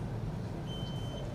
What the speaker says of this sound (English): Quick there on the buzzer.